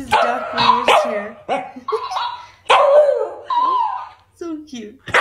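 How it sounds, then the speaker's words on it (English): A dog barks in short bursts while a high, playful voice talks over it; the barks are close and fairly loud. "Why are you barking?"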